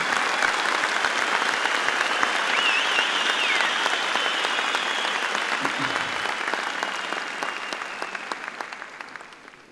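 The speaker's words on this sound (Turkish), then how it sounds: "Give yourselves a round of applause" Seminar audience giving themselves a round of applause, dense and sustained clapping from a large crowd with a few cheers mixed in, holding strong before gradually thinning and fading out toward the end.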